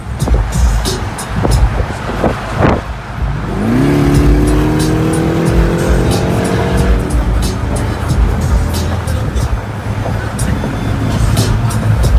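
Jeep Trackhawk SUV engine revving loudly, a steady close roar that rises in pitch partway through and holds strong to the end, with wind-like noise throughout.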